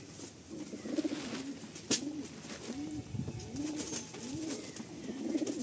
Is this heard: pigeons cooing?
yes